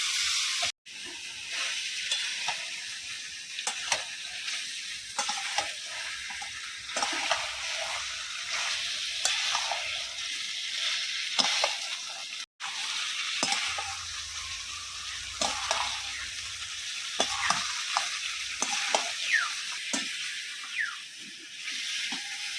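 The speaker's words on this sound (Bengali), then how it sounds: "এইদিকে চিকেন মোটামুটি ভালোভাবে কষেই নিয়েছি" Chicken stir-fried (kosha) in a pan over a clay stove, a steady close sizzle and hiss with scraping stirs throughout, and a faint low hum partway through.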